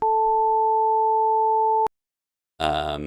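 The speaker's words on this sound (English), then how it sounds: "This is a sine wave at 440" A steady pure 440 Hz sine wave tone, the note A, holds for nearly two seconds and cuts off abruptly; after a short silence a voice starts talking.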